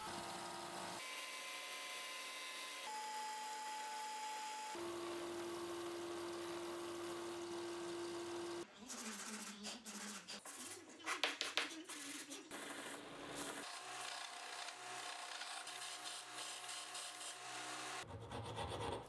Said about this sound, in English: Since it's a little longer than necessary, I'll sand it down to size.